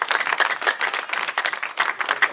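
Audience at a school foundation ceremony applauding, a dense, steady patter of many hands clapping close by throughout.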